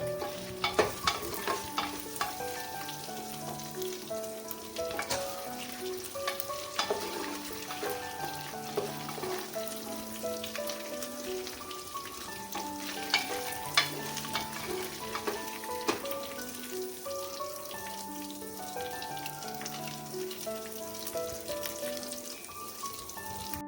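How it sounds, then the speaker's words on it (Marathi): A tablespoon of peanuts roasted and stirred in a pan for masala khichdi, producing a continuous soft sizzle with rattling, scraping stirs throughout, fairly quiet beneath steady background music. "ते पण आपण परतून घेऊया"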